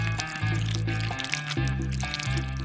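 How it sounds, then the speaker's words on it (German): Icing glaze poured into drinking straws, a soft liquid filling and trickling sound over steady background music. "Ich gieße Glasur in die Trinkhalme."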